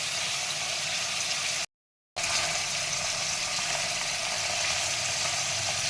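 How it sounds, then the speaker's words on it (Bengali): Paneer sizzles steadily as it is lightly fried in hot oil, a dense crackling hiss that cuts out briefly and then resumes at the same level. "পনিরটাকে হালকাভাবে অল্প একটুখানি ভেজে নেব"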